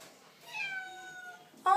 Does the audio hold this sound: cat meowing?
yes